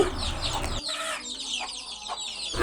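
Chicks kept shut inside a home chicken coop cluck in short, close bursts, with a few louder calls breaking through the steady farmyard noise.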